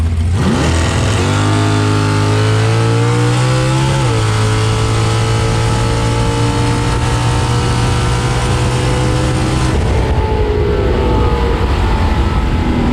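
A drag racing engine roars at full throttle during a pass down the track, loud and close, revving up sharply then holding a harsh, sustained scream before dropping off near the end.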